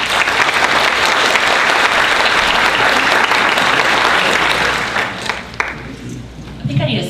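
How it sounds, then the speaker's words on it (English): Audience at a behavioral health conference breaks into loud, sustained applause welcoming a speaker, a dense wash of clapping that holds steady for about five seconds before tapering into scattered claps and a few voices. "Please help me give a round of applause and welcome to Ms."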